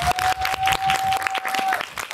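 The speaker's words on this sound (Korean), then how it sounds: "박수 한 번만 더 부탁드릴게요." Audience applause at a film Q&A screening, an uneven burst of clapping with distinct individual claps, a steady electronic tone running through most of it.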